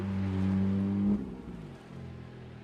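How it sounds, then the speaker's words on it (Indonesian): A car engine revs hard and holds a loud, steady tone, then drops off sharply as the car pulls away, leaving a lower rumble fading into the background. "Sonny dan Ricardo pun lalu tancap gas."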